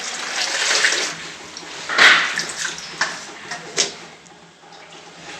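Fenugreek leaves being washed by hand in water to rinse off field soil, with close, irregular bursts of splashing and sloshing that rise and fall over a few seconds.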